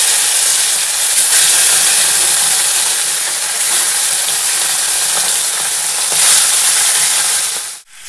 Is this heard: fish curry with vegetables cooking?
yes